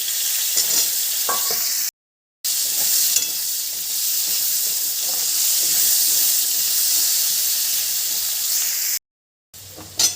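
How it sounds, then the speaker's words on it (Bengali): Potatoes added to hot oil tempered with cardamom and bay leaf, sizzling and hissing loudly and continuously in the pan with occasional stirring clinks and two brief gaps. "এলাচটাকে একটু ফাটিয়ে দিয়েছি আর তেজপাতা দিয়ে দিলাম ফোড়নটা ফোড়নটা হয়ে গেছে এবার দিয়ে দিচ্ছি আলু"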